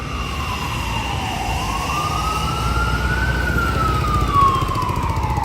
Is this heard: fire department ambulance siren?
yes